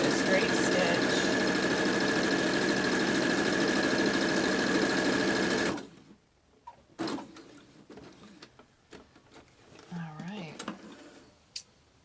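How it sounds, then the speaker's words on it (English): A sewing machine runs a straight stitch along the hem of a fabric mask, a loud steady mechanical hum for about six seconds that stops abruptly, followed by quiet handling and soft fabric rustles. "Set the press foot down and just do a straight stitch."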